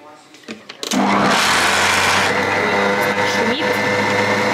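An electric kitchen mixer whirs loudly and steadily after a short start, mixing dough in a home kitchen, close by with no talking over it.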